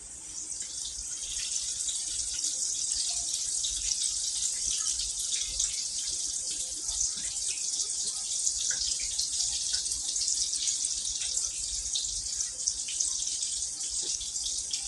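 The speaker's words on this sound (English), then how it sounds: "Background ASMR waterfall noises from Jeff." Water running steadily from a tap into a sink, a continuous close hiss of flowing and splashing water lasting about fifteen seconds, with no talking over it.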